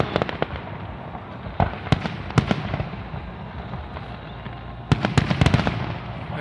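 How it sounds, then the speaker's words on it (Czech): Fireworks display by Macedos Pirotecnia of Portugal at the Ignis Brunensis 2016 fireworks show in Brno, with repeated sharp bangs and crackling bursts, scattered at first, then a dense loud cluster near the end, over a steady background hiss. "Mám takový pocit, že i na konci bude přímo ohňostroj."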